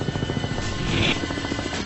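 Military helicopters taking off: a loud, steady rotor roar with a rhythmic chopping pulse that fills the sound, no voices.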